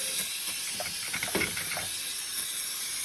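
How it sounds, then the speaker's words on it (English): Brake cleaner sprays onto the fuel filter lines and connectors of a Ford 6.7 diesel, a continuous close hiss with a few short bursts. "I'm going to hit it with some brake clean just to rinse off any dust and stuff that might be near those lines or connectors"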